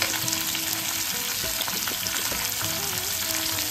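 Ginger paste fries in a pan while dal is being cooked, giving a steady, loud sizzle with a few stirring scrapes and no talking.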